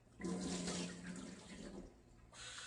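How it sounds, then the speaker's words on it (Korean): Water pours and splashes steadily from a tap as rice is rinsed in a bowl for cooking, a close, continuous rush that eases off and then swells again near the end, with no voices. "그래서 한번 물에 담가가지고 깨끗이 헹궈줄게요"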